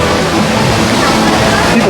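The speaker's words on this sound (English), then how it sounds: "Beautiful water fountain." A decorative water fountain at Disney World splashes in a steady, loud, continuous rush of falling water heard up close.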